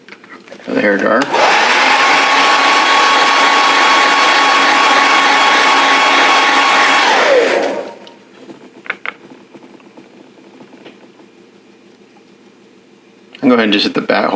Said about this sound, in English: For the hair dryer.